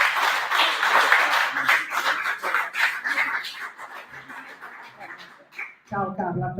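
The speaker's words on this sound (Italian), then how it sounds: "Un applauso da parte del pubblico" An audience claps in lively applause that gradually thins out, with a few scattered chuckles, before a voice speaks at the end.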